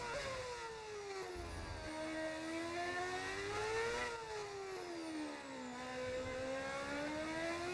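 A V8 Formula 1 car in a racing video game screams through its gears, the high engine note rising and dropping with each shift in a continuous, fairly loud run without talk.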